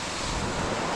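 Steady rushing water close by at a spot where people wash clothes and bathe, a constant broadband roar with no breaks and no voices over it.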